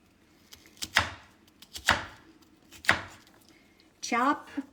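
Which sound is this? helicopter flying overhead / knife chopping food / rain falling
knife chopping food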